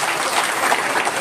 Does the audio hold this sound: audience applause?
yes